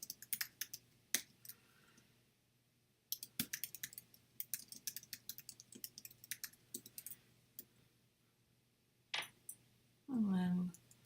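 Bursts of light, quick keystrokes on a computer keyboard, with pauses between runs of typing and a brief hum of a voice near the end.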